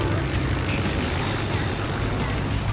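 Aircraft engines droning as skip bombers fly in a naval battle game, a dense, steady, loud roar of propeller engines with no break across the few seconds.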